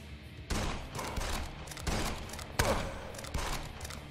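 Gunshots ring out in the video game Jupiter Hell, several distinct loud cracks arriving every second or so over a low rumbling background, with no talking.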